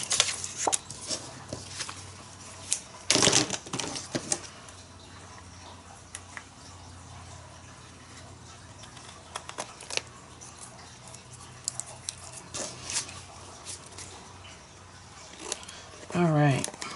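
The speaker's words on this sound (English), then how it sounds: "And now I'm just cutting the scrapbook paper off." Scissors cut through scrapbook paper in a few short, crisp snips at close range, separated by long quiet stretches of low room noise.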